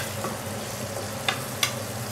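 Lamb in chimichurri marinade fries in a pan with a continuous, even sizzle, close up, with a couple of small sharp clicks toward the end.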